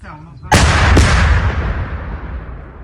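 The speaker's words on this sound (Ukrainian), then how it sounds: "Постріл!" A single sharp, loud gunshot cracks out close by and echoes, followed by a long fading rumble; a faint voice is heard just before it.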